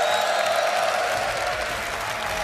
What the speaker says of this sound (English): We've got a raucous crowd